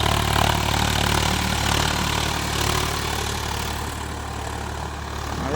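A Swaraj 744 FE 4WD tractor pulls a cultivator through a field, its heavy diesel engine droning steadily and loudly throughout with a constant low rumble and no voices.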